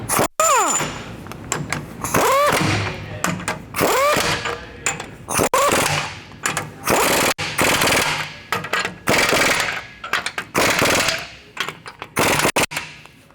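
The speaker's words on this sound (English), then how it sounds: "now we have an 1 1/8" socket, and we can tighten up our U-bolts" Truck U-bolts on a 2020+ GM 2500 being tightened with a 1 1/8 inch socket on an impact tool during a 3-inch lift kit install, with loud repeated rattling bursts separated by short pauses, close up.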